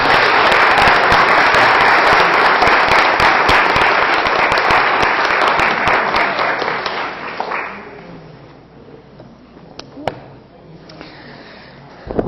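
Loud, sustained audience applause at a spiritual talk event in Irvine, California, dense clapping for about seven seconds before fading to scattered claps and room quiet.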